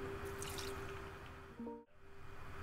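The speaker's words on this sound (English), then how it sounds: "Okay, sprinkle some water on them." Water poured from a watering can onto plants in the video game Omori, a soft trickling and dripping under game music that stops abruptly near the end.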